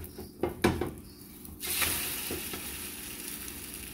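An omelette on a flour tortilla fries in a pan: a few clinks and scrapes of a utensil, then a steady, close sizzle that stays even to the end.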